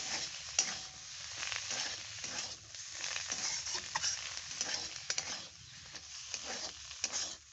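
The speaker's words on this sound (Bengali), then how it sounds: "এবার আমি ভালো করে মিশিয়ে নেব।" Spicy coriander-leaf filling for savoury puli pithe is stirred in a pan, giving a steady scraping, rustling texture with a soft sizzle underneath that continues without pause.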